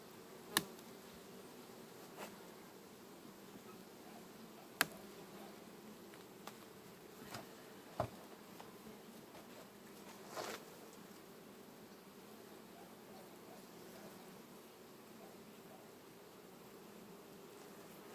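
Honey bees on a beehive frame in September hum in a faint, steady drone, with a few brief knocks and clicks scattered through.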